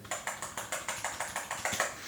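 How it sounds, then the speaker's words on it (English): Fingers type steadily on a squishy, non-mechanical 61-key Temu keyboard, about a dozen soft, evenly spaced keystrokes in quick rhythm, close and clear with no talking. "It doesn't sound terrible, it just is not a mechanical keyboard in sound or in feel."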